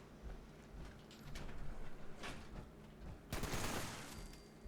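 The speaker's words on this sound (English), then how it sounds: "The gun I'm using is an exploding 50 cal." Bursts of automatic gunfire from an exploding .50 cal machine gun in the Fallout 76 video game, several spaced volleys with a loud, dense burst near the end.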